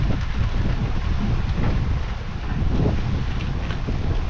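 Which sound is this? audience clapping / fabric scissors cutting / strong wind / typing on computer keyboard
strong wind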